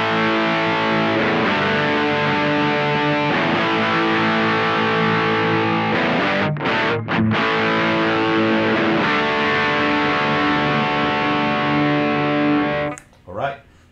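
Electric guitar through a Danelectro Billionaire Pride of Texas overdrive pedal with all knobs at noon, loud continuous distorted chord strumming with a couple of brief stops, then a sudden cutoff near the end.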